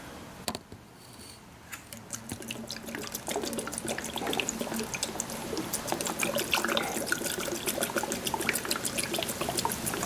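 Coolant is poured through a funnel into the radiator of a Suzuki DRZ400E enduro motorcycle, giving a close, continuous trickling and splashing with small clicks and handling noises, loudest in the second half.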